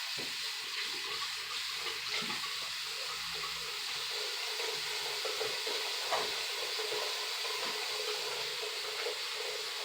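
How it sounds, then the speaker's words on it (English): Running water rinses hair remover cream off skin at a sink, a steady hissing splash that continues throughout at moderate level with no talking. "Then I wash it right off."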